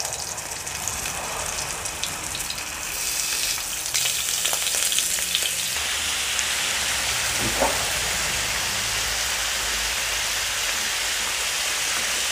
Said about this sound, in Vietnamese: Giờ bỏ thịt vô chiên chiên thịt sơ sơ.